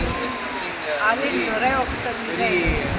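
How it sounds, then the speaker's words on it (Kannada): Water pours from the four open gates of Harangi dam during the monsoon, a dense continuous rush heard up close with a voice talking over it. "ಈ ಡ್ಯಾಮ್ ಓಪನ್ ಮಾಡಿದಾಗಂತೂ ನೀರು ನಾಲ್ಕು ಗೇಟಲ್ಲೂ ಬರ್ತಾ ಇದೆ"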